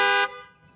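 Vehicle horn wired to an on-board air system as train horns, one short loud blast under a quarter second that cuts off and rings out briefly, heard alone.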